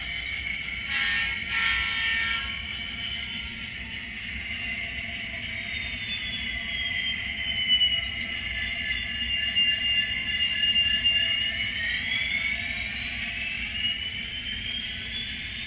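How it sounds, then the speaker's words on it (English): Model diesel locomotives running on a train layout, with a steady electric motor whine rising and falling in pitch under a low rumble, close and continuous. "These are great looking diesel locomotives. All right, let's take them out for a little spin."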